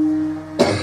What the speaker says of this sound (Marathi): माझा खोकला तुम्हाला विक्षेप करतोय ना